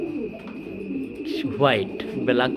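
Meghpai pigeons, a black-and-white pair, coo in a couple of rising, throaty calls close by, with someone talking underneath and a steady high whine in the background.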